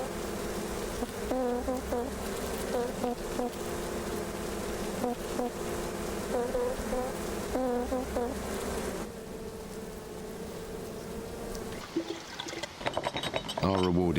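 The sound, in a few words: bees buzzing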